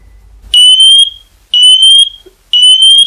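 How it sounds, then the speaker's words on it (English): Loud, piercing ELRO smoke detector alarm beeps sounding at full volume in three long pulses with short silences between them, very close. "the volume of the smoke detector can be heard"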